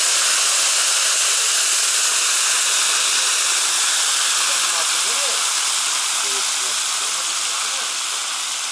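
Water poured into a hot kazan of frying meat for Uzbek kazan kabob, a loud continuous rushing hiss of steam and sizzle lasting several seconds, with faint voices underneath.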